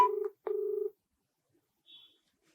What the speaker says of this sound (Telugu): రింగ్ అవుతుంది, ఆయనతో మాట్లాడే ప్రయత్నం చేద్దాం.